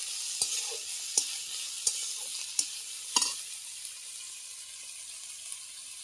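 Potatoes, long beans and green and ripe chillies fry in a pan with a steady soft sizzle, broken by several sharp scraping clicks from a stirring utensil spaced about a second apart.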